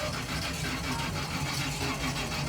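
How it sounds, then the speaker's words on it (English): A brand new engine in a Corvette idles roughly just after a cold start at an outdoor car show, a steady close engine rumble running without a break and without any talk. "Cold start with a brand new engine in this vet."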